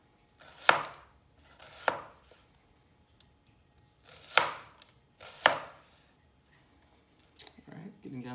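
Four slow, deliberate knife chops through an onion on a cutting board, each a sharp close thud with a brief crunch, spaced about a second apart with quiet gaps, then light rustling at the end.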